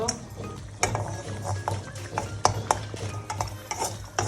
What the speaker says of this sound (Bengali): এখন মরিচ হালকা করে ভেজে নেব